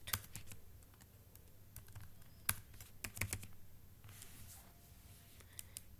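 Quiet, irregular keystrokes on a computer keyboard during data entry in Tally Prime accounting software, scattered soft clicks with a few sharper taps over a faint steady hum.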